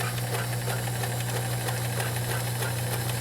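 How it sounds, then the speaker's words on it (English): Vintage 1970s Kenmore model 1914 convertible sewing machine running steadily, with a constant motor hum and a continuous close rattle from a noisy spring-loaded spool pin. "And that noise you hear is the spool pin."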